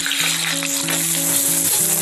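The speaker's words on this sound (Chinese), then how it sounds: "下入鸡蛋炒散" Eggs stir-fried in oil in a wok, with a steady loud sizzle and light scraping over a soft background tune, no talking.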